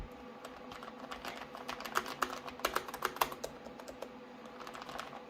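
Rapid, uneven key clicks from a Corsair K70 MK2 RGB mechanical keyboard with quick, quiet switches, typed continuously up close at a moderate level with no voices.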